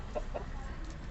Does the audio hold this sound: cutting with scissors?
no